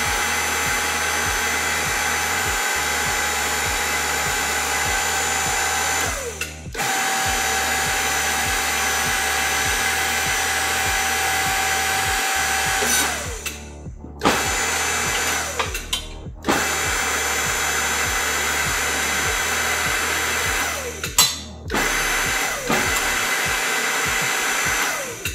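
A tube bender machine bends five tubes at once with a loud, steady mechanical whir and hum, broken by several abrupt stops and restarts and a repeating low thumping rhythm, with no talk.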